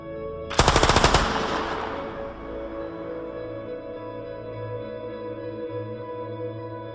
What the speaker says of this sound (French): qui serait Jean Bangler, ouvre le feu à la Kalachnikov sur les 2 équipiers de la BAC, Eric et Christophe.